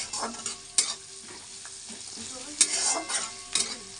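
Onion, garlic, ginger, tomato and green chilli fry in a pan for chicken curry, with steady sizzling and several sharp stirring scrapes and clinks of a utensil against the pan, close and moderately loud.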